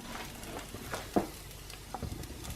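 Quorn fries in a pan over medium heat, giving a steady close-up sizzle with a few soft clicks and taps as it settles.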